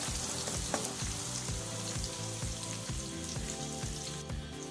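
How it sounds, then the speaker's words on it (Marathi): Cumin, mustard seeds and garlic paste sizzling in hot oil for Maharashtrian stuffed brinjal, a dense continuous crackle with rapid popping seeds, close and loud, no voices. "जिरे मोहरी लसूणची पेस्ट छान अशी कढू द्या"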